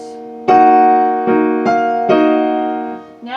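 Piano playing a waltz passage by Khachaturian with the sustain pedal held, four loud chords struck in a lilting rhythm, each ringing on and blending into the next before fading.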